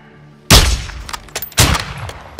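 Two loud, sharp sniper rifle shots in the video game Call of Duty: Modern Warfare II, spaced about a second apart, each with a booming echoing tail, then quieter game noise between and after.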